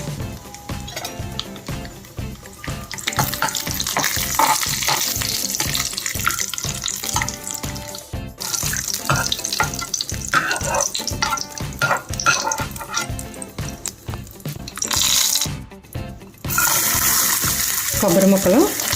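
Dry fruits fry in a spoonful of ghee in a pan on the stove, a busy, close sizzle with rapid crackling and stirring clatter, briefly pausing near the end before resuming.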